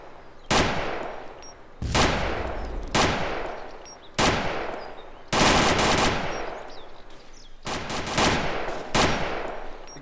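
Loud bursts of gunfire in the video game DayZ, several rapid volleys separated by brief pauses, some fading with a short echo.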